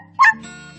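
A dog gives a single short yip-like bark followed by a soft, low whimper, close and brief, over faint background tone.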